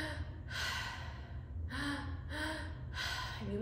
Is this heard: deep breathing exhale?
yes